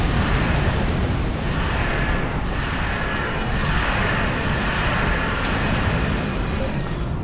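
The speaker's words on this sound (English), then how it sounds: "That's the high yield grav torpedo." A high yield graviton torpedo detonates in Star Trek Online space combat, a loud, sustained roaring blast of dense rumbling noise that holds steady for several seconds.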